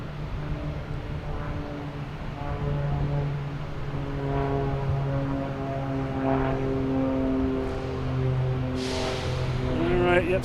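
A British Airways aircraft taxiing at Boston Logan Airport, a steady droning engine whine with sustained tones that slowly swell and shift in pitch, loud and continuous with faint talk at moments.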